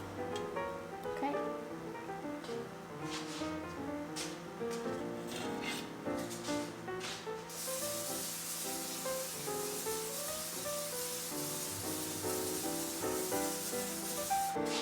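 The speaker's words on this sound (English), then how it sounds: "Make sure you spray your pan with cooking spray." Cooking spray hisses onto a regular metal loaf pan while making copycat Outback bread, a steady bright spray lasting several seconds in the second half, heard over continuous background music.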